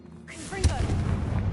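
Confringo spell explosion in the video game Hogwarts Legacy: a sudden deep boom with a rumbling tail, preceded by a brief voice.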